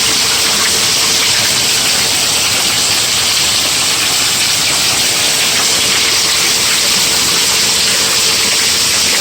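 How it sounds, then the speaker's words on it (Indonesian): Rainwater runs off roof tiles and pours into a koi pond during a rainstorm, a loud, steady, dense hiss of gushing and splashing water that continues unbroken throughout. "Air hujan dari genteng masuk ke dalam kolam"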